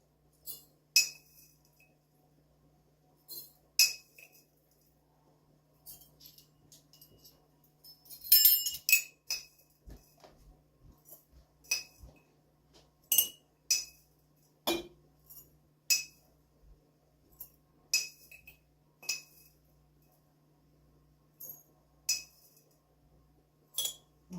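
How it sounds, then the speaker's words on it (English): A metal spoon drops coriander into glass quart jars, giving sharp, bright clinks in an irregular series, close and clear against a faint steady hum, with no talk. "a teaspoon of coriander in each quart jar and a half a teaspoon in the half quarts"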